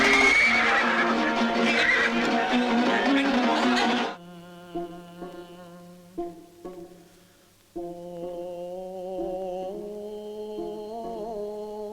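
A white horse neighs loudly and close, a long shrill whinny, before giving way to a quieter sustained musical tone with soft plucked notes.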